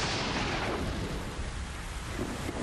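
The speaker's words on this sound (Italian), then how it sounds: "E piove." Steady rain hisses while a low rumble of thunder rolls through in the video game Metal Gear Solid 3: Snake Eater, continuous and fairly loud, with no voices.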